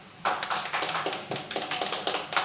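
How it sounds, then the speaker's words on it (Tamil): Hands clapping in a quick, steady run of sharp, close claps with no talking, lasting a couple of seconds. "இதுக்கு கை தட்டுங்க."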